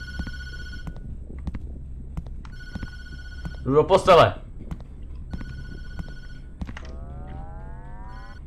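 Mobile phone ringing inside the Tattletail video game, a short burst of bright electronic ringing in the middle of a quiet scene with soft synthetic tones and a voice speaking around it.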